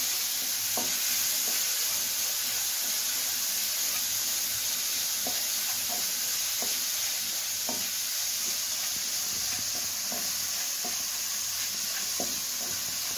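Grated beetroot roasting in ghee over a low flame, a constant soft hiss of frying with occasional light spatula taps and scrapes spaced a second or so apart, nearby and unaccompanied by speech.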